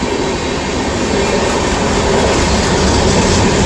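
A train rolling through Manjathidal railway station, a loud, close, continuous roar and rumble of wheels on track that holds steady throughout with no one speaking.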